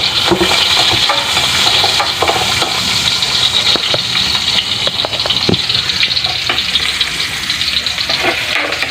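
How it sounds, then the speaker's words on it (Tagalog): Onion and garlic sauté in a hot pan for an ampalaya dish, a loud, continuous sizzle close up with occasional stirring ticks. "Lagay tayo na sibuyas at saka garlic."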